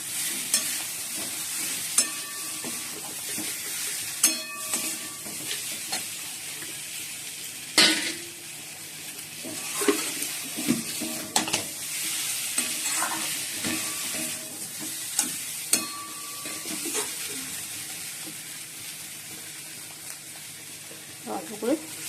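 Eggs stirred into a sizzling spice masala for egg curry in a home kitchen pan: steady frying hiss with repeated scraping stirs and occasional sharp clinks of utensil on the pan, close and continuous throughout.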